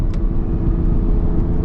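Intake roar from a Honda NSX NA2 heard from inside the car, a deep, steady engine drone held close and loud for under two seconds, with no talk over it.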